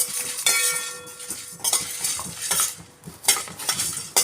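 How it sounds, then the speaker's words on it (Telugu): Coriander seeds, cumin and dried red chilies dry-roast in a pan, with frequent metallic clinks and scrapes from a spoon stirring them and a faint rustle underneath, no voices. "ఇవి కొంచెం బాగా వేయించుకోవాలి"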